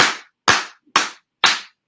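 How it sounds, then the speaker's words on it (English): A group claps in unison for the board at a State of the Black Student event: four sharp, evenly spaced collective claps about half a second apart, loud and close, with no talking. "We want to give 5 claps to the board."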